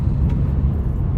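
A 2025 Nissan Murano engine runs as a steady, low, muffled hum while the car is being driven, with continuous road and cabin rumble and no voices.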